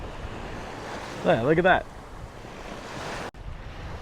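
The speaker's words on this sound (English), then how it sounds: "Look at how close the waves are crashing over this wall up here." Ocean waves crash and surge over a seawall at Goose Island State Park, a steady broadband roar with strong wind noise throughout; a person speaks briefly partway through.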